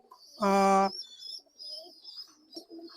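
A single loud coo from red-eyed blue pigeons at a pigeon market rings out, followed by quieter soft cooing and faint rustling in the background.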